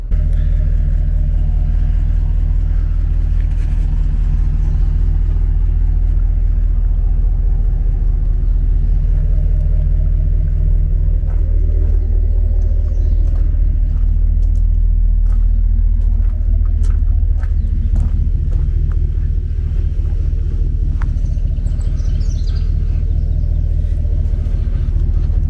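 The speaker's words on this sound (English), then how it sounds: "Driving the Dodge today to the struggle show." Deep, steady engine rumble from a Dodge truck being driven, loud and continuous with a low drone throughout and faint shifts in pitch as it moves along the road.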